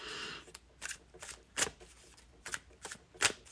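Tarot cards are shuffled by hand in a series of crisp riffling bursts at irregular intervals, close and fairly loud, with no talking.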